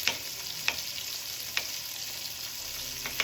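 Onions fry in a hot pan with a steady, soft sizzle and a few sharp crackles and pops, heard close up and alone without talk.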